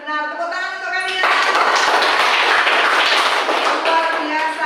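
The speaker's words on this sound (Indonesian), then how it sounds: "Tepuk tangan untuk kalian." Children in a classroom clap together in a dense, sustained burst that starts after a brief voice and holds loud and steady for several seconds, with a little chatter mixed in.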